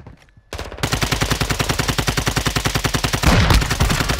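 Rapid automatic gunfire in Call of Duty Modern Warfare II, a fast continuous stream of loud close shots with a heavier burst near the end, rather than a single sniper rifle quick-scope shot.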